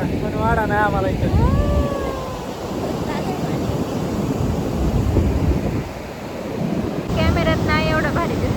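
Ocean surf at Benaulim beach in Goa rolls in as a steady, loud wash mixed with wind buffeting the microphone, while people talk in the middle of it.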